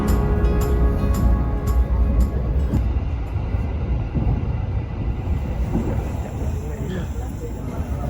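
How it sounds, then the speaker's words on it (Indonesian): A passenger train rumbles along the tracks in Indonesia with steady clattering and rattling from inside a carriage, a sustained heavy roar with occasional clicks. "kereta api kembali melesat menuju kota tujuan"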